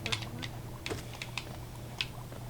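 Computer keyboard typing, with quick irregular clicks in short bursts, close and fairly quiet over a low background hum.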